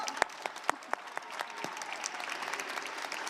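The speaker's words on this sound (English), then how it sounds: "I feel like clapping." A few slow, evenly spaced claps ring out in a conference hall at the AI Action Summit, with a quiet room tone between them.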